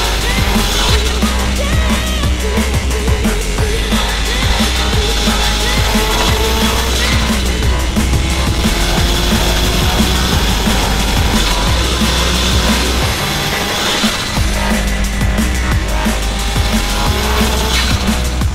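A 400hp four-wheel-drive Honda Shuttle with a turbocharged D16 engine swap roars loudly and continuously close by, its tires squealing and skidding under hard driving throughout.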